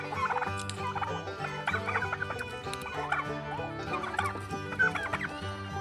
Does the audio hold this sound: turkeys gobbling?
yes